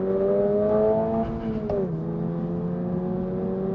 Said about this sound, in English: the exhaust sounds really good in this